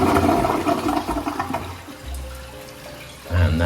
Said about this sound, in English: And that's a good flush.